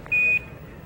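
The Apollo 11 lunar module 1202 program alarm sounds as a single short, loud, pure electronic tone lasting about a quarter second, clear over faint radio-link hiss.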